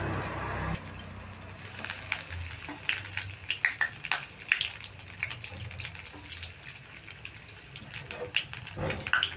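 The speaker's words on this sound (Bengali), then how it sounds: "এই গরম তেলটাতে কিন্তু কারি পাতাগুলো ভাজা হয়ে যাবে" Washed curry leaves frying in hot oil in a wok after shredded potatoes were fried in it. Quiet irregular crackles and sharp pops spatter over a soft low hiss, with bursts clustering in the middle and again near the end.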